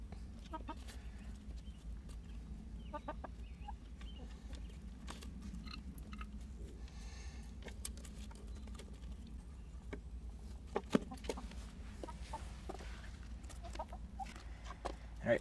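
Chickens cluck and fuss around a backyard nest area, soft scattered calls over a steady low rumble, with someone talking quietly nearby.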